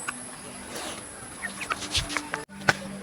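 Roosters and hens cluck softly and intermittently nearby over a faint hum, with a few sharper clucks toward the end.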